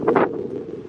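Outdoors on a windy day, a brief gust buffets the microphone with a couple of quick low rumbling thumps before settling into a softer steady rush.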